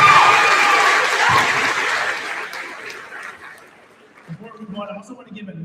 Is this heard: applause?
yes